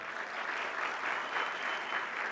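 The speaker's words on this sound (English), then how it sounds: "Could I get a round of applause for that?" Steady applause from an audience, a dense wash of clapping hands that holds at an even level throughout with no voices standing out.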